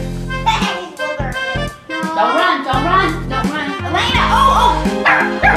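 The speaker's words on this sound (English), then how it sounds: "What are you barking at?" A puppy yips and barks in short high bursts, with whimpery tones mixed in, close and fairly loud.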